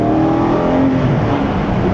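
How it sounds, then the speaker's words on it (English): Porsche 718 Cayman GT4 flat-six pulling hard, a loud, close, rising engine note with strong induction roar, continuous and alone for the whole stretch. "I love the engine, that flat six Porsche engine. I love the induction noise."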